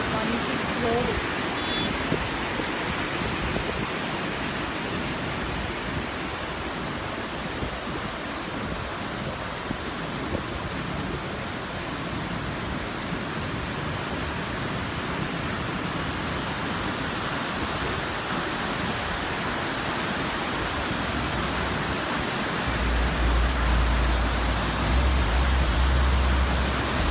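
A waterfall in Naran Valley roars continuously as rushing water pours down, a dense, unbroken hiss that stays loud and close throughout.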